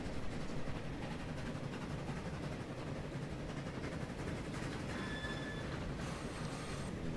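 Trains running on a line in the Transport Fever video game give a steady, dense rumble of wheels on rails with faint squealing tones near the end, continuous and moderately distant, no talk.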